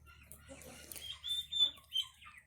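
Chickens at a small farm's coop in the morning, faint scattered clucks and short calls coming in several quick bursts, fairly distant and quiet.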